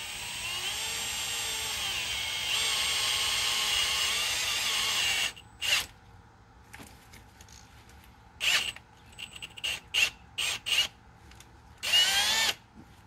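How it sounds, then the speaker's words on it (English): An all-purpose hammer drill slowly boring out a hole in an aluminum manifold during thread repair: a loud continuous whine for several seconds, then a series of short stop-start bursts as the bit bites. "I'm just going to drill this hole out nice and slow."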